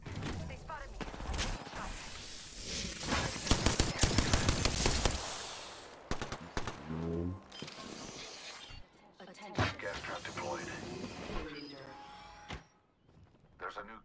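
Bursts of rapid gunfire in the video game Apex Legends, dense and loud early, then scattered shots and game effects with a player talking over them.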